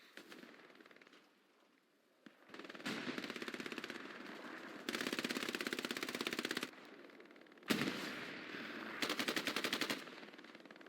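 A PPSh submachine gun fires in long rapid automatic bursts in a multiplayer video game, loud and close, with short gaps between strings of fire.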